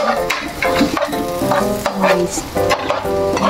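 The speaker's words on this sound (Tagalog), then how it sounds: "At igisa na po natin ang bawang," Garlic sautéing in a pan, busy sizzling with scraping and stirring clatter throughout, close and fairly loud, no talking.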